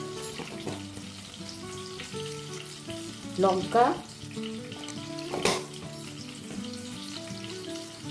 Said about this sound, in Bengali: ওদিকে টমেটোটা ভাজা হচ্ছে